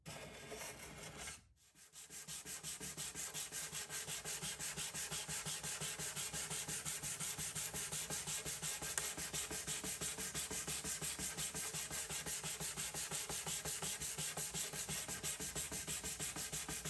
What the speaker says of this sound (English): I used a card scraper and then sanded.